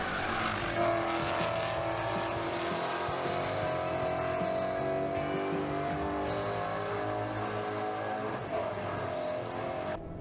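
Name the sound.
Ford Mustang Challenge race cars' V8 engines at Le Mans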